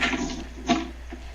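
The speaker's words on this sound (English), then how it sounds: "Yay for loud dice on a desk." Dice rolling on a desk during a Dungeons & Dragons 4th edition game session: a few short, sharp clattering knocks spaced apart, moderately loud and close, with no talking.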